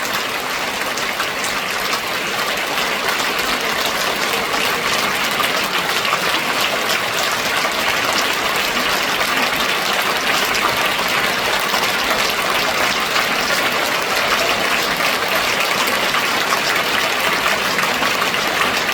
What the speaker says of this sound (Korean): 이제 우리 힘차게 우리 선교사님들을 환영하며 박수 하겠습니다